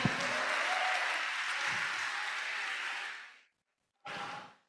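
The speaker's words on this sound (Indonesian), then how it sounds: "tepuk tangan untuk Arik biar semangat" A short burst of clapping from a gathering at a school break-fast and results event: steady applause for about three seconds that fades out, then a second brief round after a pause.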